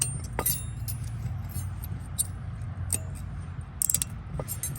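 Small metal brake hardware clips on a 2012 Ford Fiesta front brake pushed into place, giving several light metallic clinks and jingles over a steady low background hum, close up and fairly quiet.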